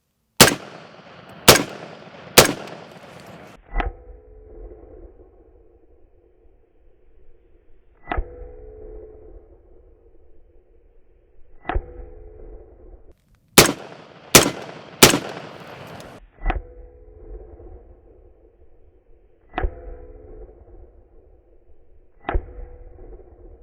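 Bimetal steel-cased rounds fired at AR550 Level III+ body armor, sharp loud gunshots in quick groups of three and single shots, each followed by a ringing metallic impact, with quiet gaps between.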